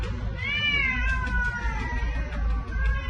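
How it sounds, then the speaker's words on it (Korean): Dozens of cats crammed into a steel cage in a storage shed, meowing and yowling in distress, several overlapping cries rising and falling continuously over a low background rumble. "철제우리에 갇힌 고양이들이 고통스러운 울음소리를 냅니다."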